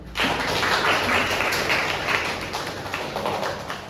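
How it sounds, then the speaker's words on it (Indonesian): Classroom applause fills the room steadily with dense clapping from a group, loud at first and gradually thinning toward the end, with no speech over it. "Tepuk tangan untuk kita."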